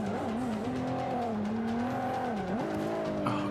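Race car engine in Forza Motorsport 5 on Xbox One, a steady loud droning whine that rises and dips with shifts in pitch, continuous throughout with no talk.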